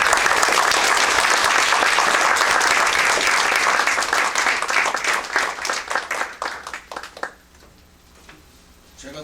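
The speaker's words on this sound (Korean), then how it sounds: "여러분 큰 박수로 맞아주시기" An indoor audience at a church-history lecture forum claps loudly and steadily to welcome a guest lecturer, the applause holding strong and then thinning out into scattered claps and fading to quiet.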